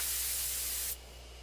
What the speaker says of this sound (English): Take careful aim, spray the drug.